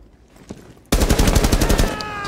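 Automatic gunfire in Rainbow Six Siege, a sudden loud, rapid burst of evenly spaced close shots after a quiet moment with a single faint earlier shot.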